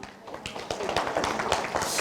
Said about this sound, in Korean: 박수가 적네요.